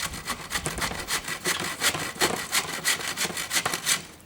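A hand saw cuts through a wooden board for a pedal board box in steady back-and-forth strokes, each rasping pass close and loud in a regular rhythm, with no talking.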